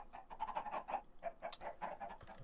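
Minecraft chickens cluck in a steady run of short, repeated bursts, close and clear, with no voice over them.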